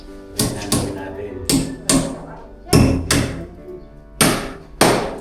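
A hammer drives a nail into concrete with about nine sharp, separate strikes at an uneven pace, each one ringing loud and close.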